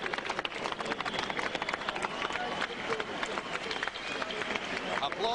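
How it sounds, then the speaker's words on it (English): Arena crowd applauds boxer Wilfredo Vasquez in the ring, a lively patter of clapping and cheering mixed with a commentator talking over it. "Applause in the ring for Wilfredo Vasquez"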